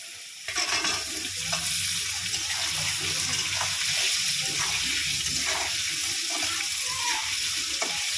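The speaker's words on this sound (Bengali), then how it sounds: "আলুটা ভেজে নেব।" Potatoes fry in hot oil in a pan, already seasoned with tempering spices, making a constant loud sizzle with faint stirring scrapes and no voices throughout.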